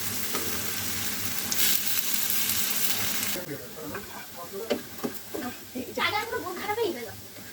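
Lentil fritters (peyaju) frying in a small amount of oil, a steady close sizzle that drops to softer crackles and pops as the pieces are stirred and moved, with a voice speaking over it.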